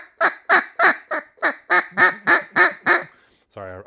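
A handheld duck call blown by a hunter in a string of about ten evenly spaced single quacks, loud and close, ending with a brief different reedy note.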